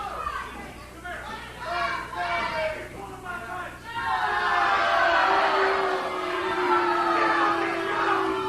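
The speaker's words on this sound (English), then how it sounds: "Listen to the crowd here in the Ohio Valley. They're screaming at Trailer Park." A wrestling crowd in the Ohio Valley screams and jeers at a heel wrestler, a dense, loud roar of many voices that swells partway through, with a commentator talking over it.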